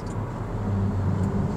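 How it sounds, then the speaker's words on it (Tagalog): A motorcycle approaching along a road, heard from inside a 2024 Honda City RS, comes through as a steady low engine drone over the muted cabin hum, fairly even and unobtrusive. "Ito, may parating na motor."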